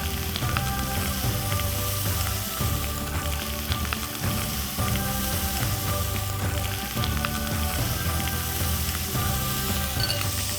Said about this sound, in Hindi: अब इसमें डालेंगे ये दाल जो हमने उबाल के रखी है।